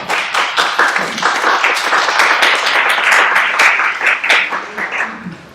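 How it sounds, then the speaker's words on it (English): A lecture audience at an art, labor and voice event at Hull House claps in steady, close applause that lasts throughout without pause. "I want to give everybody another round of applause."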